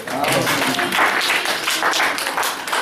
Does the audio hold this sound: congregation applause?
yes